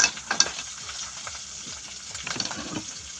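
Dried fish (daing) frying in hot oil outdoors on a farm, a steady close crackling sizzle with sharper pops and spits scattered throughout.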